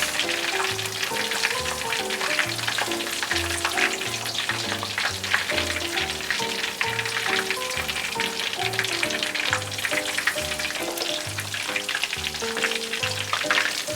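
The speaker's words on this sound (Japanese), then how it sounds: "大体ですね、揚げます" Tonkatsu pork cutlets deep-fry in oil with a dense, even crackle and sizzle that carries on without a break, heard close up under a soft musical backing.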